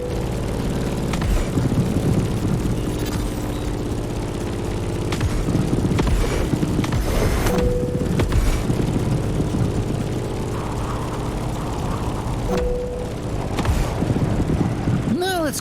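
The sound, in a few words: propeller plane flying in the video game The Crew Motorfest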